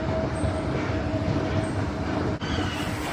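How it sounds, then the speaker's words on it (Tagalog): A train at a railway station in Italy, heard as a steady, loud rumble of rolling stock with a brief dip partway through and no talking. "Ganyan ang mga train dito."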